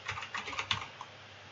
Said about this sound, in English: I'm going to right click and I'm going to type in cast to character.